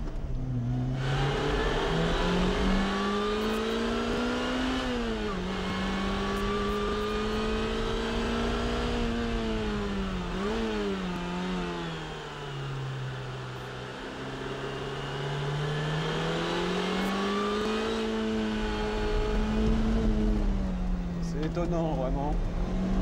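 Yellow Lotus Elise SC supercharged sports car driving on a road, its engine droning steadily from inside the cabin with rising and falling pitch as it accelerates and eases off, someone talking over it throughout.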